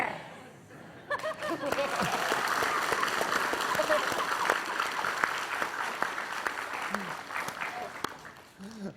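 A studio audience on an Indonesian television talk show breaks into sustained applause, dense clapping that swells and holds for several seconds with some chuckles mixed in, while a host's voice talks over it.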